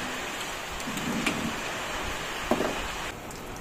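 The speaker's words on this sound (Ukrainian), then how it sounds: "Ось і пішов дощику, дощику." Cool summer rain falls steadily over a rural vegetable garden as a broad, even hiss. A couple of faint knocks and soft sounds rise briefly above it, and no one speaks.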